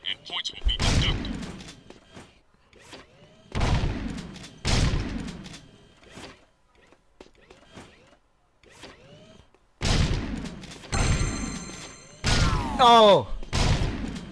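Rapid volleys of blaster gunfire hitting pop-up targets in a Jak 2 shooting gallery, sharp bursts spaced by short pauses with electronic zaps and beeps, close and loud, with a player's brief exclamation.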